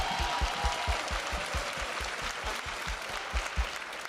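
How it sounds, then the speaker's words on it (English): Audience applause at a winter band festival, a steady wash of clapping with heavy, regular low thumps pulsing underneath throughout. "can we give her a round of applause?"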